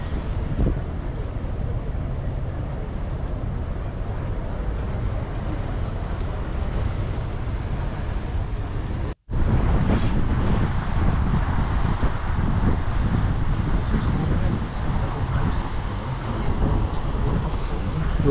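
Fjord cruise boat ride near Oslo, Norway: steady loud wind buffeting the microphone over a continuous low engine and water rumble from the front of the boat, with a brief dropout midway.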